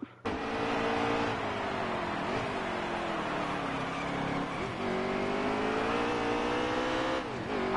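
Race cars roaring around The Glen road course in NASCAR Heat 3, a loud continuous engine drone with rising and falling pitch as the cars shift gears and corner, steady throughout with no talking.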